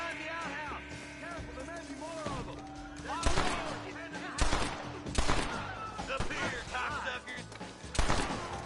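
Gunfire in Red Dead Redemption, several sharp shots scattered through the scene with one heavy blast after another over game sound and voices talking.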